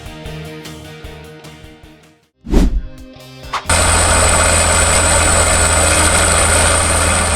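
A John Deere 9RX tractor pulling a combined cultivator through a dusty field: after a brief burst, a loud, steady engine drone takes over and holds at full volume, with no talk.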